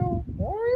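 Electric guitar played to mimic a cat's meow, a short rising, gliding wail with a vocal, mewing quality, clear and alone.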